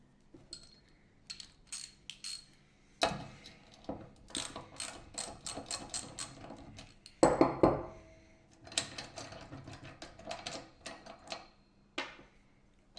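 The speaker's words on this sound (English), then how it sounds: "I am using a universal socket to get it quicker" A universal socket on a ratchet spins off a floor jack wheel, giving bursts of quick clicking pawl ticks with metallic clinks, close and alone with no talking.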